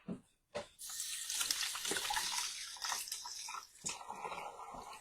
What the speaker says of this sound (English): I'll rinse my hands again.